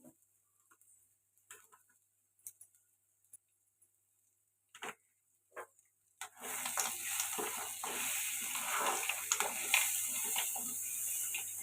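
Urad dal vadiyalu drop into a hot pan after a few sparse clicks and taps, and a loud, steady frying sizzle then takes over for the rest of the moment.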